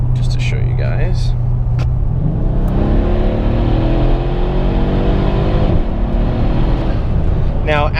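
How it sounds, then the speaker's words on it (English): A Mercedes-Benz W212 E63 AMG in Sport Plus mode slows down under steady engine rumble, with stepped shifts in pitch as it drops through the gears. A short voice comes in at the start, and brief squeaks sound near the end. "So I just want to show you the S Plus downshift mode really quickly."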